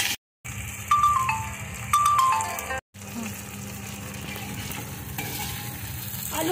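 Three to four small cut potatoes frying with onion and dried chilli in a home kitchen pan, a steady crackling sizzle broken by brief pauses and stirring scrapes.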